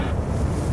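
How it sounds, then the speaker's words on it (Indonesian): Strong, loud wind roars continuously in the Ace Combat 7 flight game during a bunker-bombing mission, a dense low rushing blast with no talking. "Oh, ada angin."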